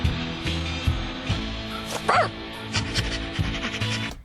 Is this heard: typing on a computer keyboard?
no